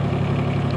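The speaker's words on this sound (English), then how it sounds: "The engine here is a 3-cylinder YANMAR." A 2019 Mahindra eMAX 20 HST subcompact tractor's 3-cylinder Yanmar diesel engine running steadily at idle, a loud, close, continuous low rumble with no talk.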